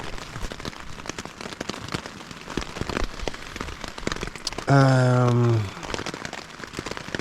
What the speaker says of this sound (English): Raining, step one, as you can hear.